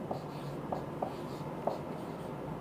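Chalk or marker writing on a board during a Class 11 maths lesson on straight lines: a few short, crisp taps and strokes spaced irregularly over steady room hiss, with no talk.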